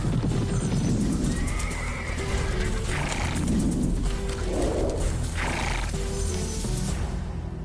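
Several loud, shrill horse whinnies rise and fall over a dense, rumbling bed, with faint hoof clip-clops mixed in and no talking.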